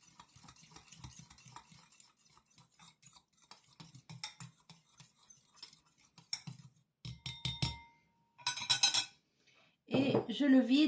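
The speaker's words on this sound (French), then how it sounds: "Je vais mélanger le jus du citron avec le sucre glace." Lemon juice and icing sugar are stirred together in a bowl with a utensil, giving soft scraping and light clinks against the bowl in irregular bursts, quiet at first and then louder, sharper strokes near the end.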